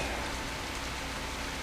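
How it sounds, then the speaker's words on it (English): Steady, dense rain pours in the video game The Path, an even hiss of falling drops with no voices. "Looks like some time's passed too since it's raining."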